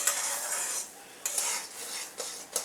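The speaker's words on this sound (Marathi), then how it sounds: "मस्त असं मिक्स करून घ्यायचं" Sheera being stirred in a kadhai after nutmeg and cardamom powder are added, a spoon scraping and rasping through the mixture in a few distinct strokes with short clinks against the pan, close and alone.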